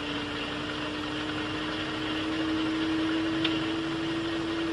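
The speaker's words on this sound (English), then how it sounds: "Energize the starter and then prime the engine in the last 5 seconds of energizing" P-61 Black Widow aircraft engine turning over at start-up, a steady droning hum with a constant whine and broadband roar held evenly throughout, fairly loud and alone with no talk.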